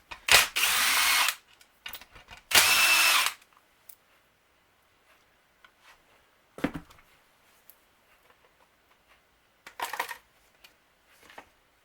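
A power tool removes bolts from a Stihl MS201TC chainsaw in two loud whirring bursts, followed by quiet clicks and handling and one short final burst.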